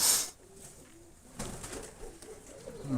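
Mykolaiv pigeons coo softly in low, rolling calls at a loft, with a brief rustle of wings at the start and faint background noise.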